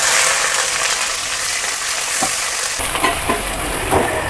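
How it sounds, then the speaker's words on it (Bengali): Onion and black cumin (nigella) fry in hot oil for a Bengali prawn and okra posto dish, giving a steady close sizzle that grows brighter and louder partway through, with a few soft stirring knocks. "এবার আমি ফোড়নের জন্য দিয়ে দেব কালো জিরে, ওর সঙ্গে আমি পেঁয়াজটাকে ভেজে নেব।"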